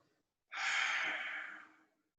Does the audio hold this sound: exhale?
yes